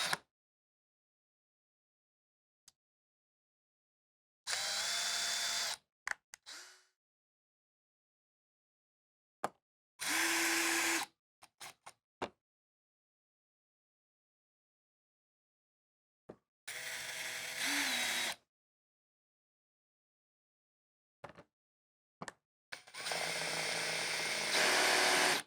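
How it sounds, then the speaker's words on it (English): Ratcheting driver bursts while screws fasten the rooftop cover onto a Furrion air conditioner, four separate runs of quick mechanical clicking, each a second or two long, with a few isolated taps and clicks between them and no talking. "Install the screws attaching the rooftop cover to the air conditioner."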